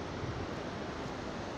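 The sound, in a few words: river water flowing below overflowing dam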